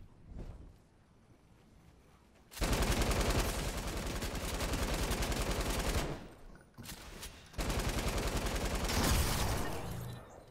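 Rapid bursts of gunfire from the video game Fortnite, a quiet start giving way to loud sustained volleys, a short lull, then another dense stretch of shots.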